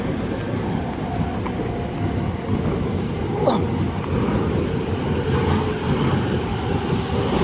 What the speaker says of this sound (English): And there's the train I take.